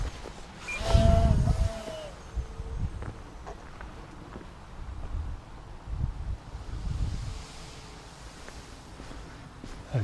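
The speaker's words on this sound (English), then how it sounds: "The wind is going" Wind gusting outdoors at an RC model flying field, buffeting the microphone in low rumbling bursts, strongest early on and then steadier, with a faint whine passing through near the start.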